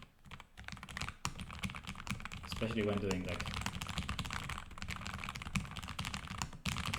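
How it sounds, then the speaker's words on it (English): Keys on a low-profile Lofree Edge keyboard clatter in a steady, fast run of soft, close taps, continuing beneath a person talking. "So I find myself typing on it actually faster than on the mechanical keyboard"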